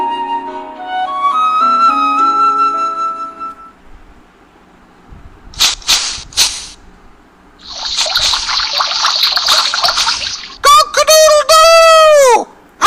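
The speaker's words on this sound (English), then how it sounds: "Cock-a-doodle-doo!" A rooster crows loud and close at the end, following a short chiming melody and some splashing, trickling water in a children's storybook setting.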